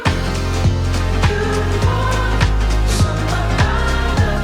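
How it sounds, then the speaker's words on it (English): The final chorus of a song plays loud and dense, with stacked choir vocals layered over a steady pulsing beat and heavy low end. It carries on without speech. "we're in the final chorus now, which fully, everything together sounds like this"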